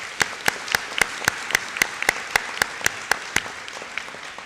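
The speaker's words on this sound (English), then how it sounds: "Let's applaud those students" Sharp individual claps in a steady, evenly spaced rhythm at a college commencement ceremony honoring students, with a thin hall ambience beneath each crisp hit.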